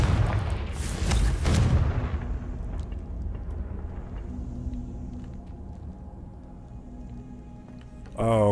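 A Confringo spell explosion in Hogwarts Legacy on PC: one loud, booming blast near the start that decays into a low rumble, followed by quieter ambience and a sudden sound at the very end.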